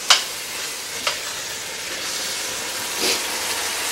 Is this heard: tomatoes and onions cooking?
yes